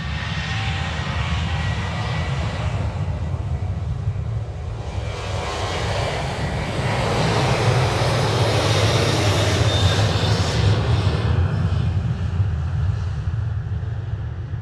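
A Ryanair jet taking off at Manchester Airport makes a broad, roaring engine rush that swells in the middle and fades toward the end, heard alone at moderate distance.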